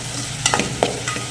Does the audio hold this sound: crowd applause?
no